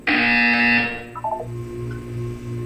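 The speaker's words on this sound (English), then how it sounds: "You will hear a buzzer." A loud, flat electronic buzzer sounds in Portal 2, held for about a second and then cut off, followed by a few short blips and a low droning hum.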